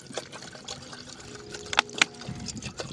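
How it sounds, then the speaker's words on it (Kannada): Water is poured during night camping on a mountain, a soft trickling splash at close range with faint background noise. "ನೀರು ಹಾಕುವ."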